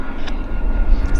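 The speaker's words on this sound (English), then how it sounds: "Taxiing out, we got a baby Embraer" Small Embraer regional jet taxiing out at an airport, its engines giving a steady, moderately loud broadband rumble and hiss that holds constant, with no talk over it.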